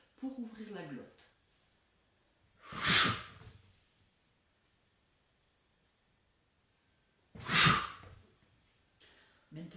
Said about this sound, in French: on souffle en descendant, on inspire en montant. On inspire toujours la bouche ouverte sans faire de bruit pour ouvrir la glotte.